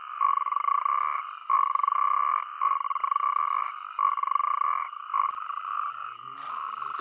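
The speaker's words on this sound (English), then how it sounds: "A strong croak is a sign of tip-top health." Natterjack toads croak together at night in Iberia during a mating gathering, a loud, continuous rattling trill with short pulsed bursts and no voices.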